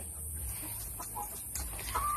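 Chickens cluck softly in short, scattered calls against a steady background hum.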